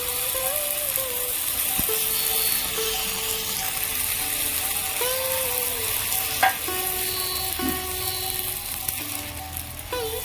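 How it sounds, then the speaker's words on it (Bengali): Pea paste frying in a pan with ginger and green chili, a steady loud sizzle throughout, with occasional clinks and scrapes of a spatula stirring against the pan. "আদা ভালো করে ভেজে নিয়েছি আদা কাঁচা লঙ্কা এবারে মটরশুঁটি পেস্টটা দিয়ে দেবো"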